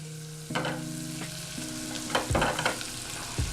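Butter sizzling in a hot pan for chicken fettuccine Alfredo, a soft steady crackle under a low tonal hum, with a few scraping stirs and clinks near the end.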